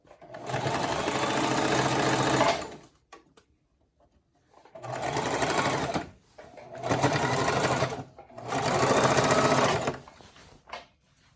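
A Singer Classic sewing machine stitches a pant hem in three close, steady bursts of rapid whirring, each a couple of seconds long and separated by short quiet pauses.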